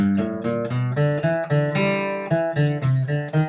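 An acoustic guitar picks a quick, bright run of plucked notes, each sharply attacked, in a lively bluegrass phrase played close and alone.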